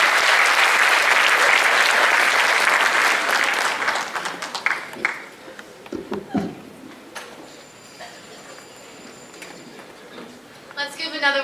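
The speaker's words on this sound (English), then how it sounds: "Let's give another round of applause to both our keynote speakers and Sophie Ashraf" Loud, dense applause from a conference audience at a Model UN event fills the opening seconds, then thins into scattered claps and fades out, with a brief burst returning near the end.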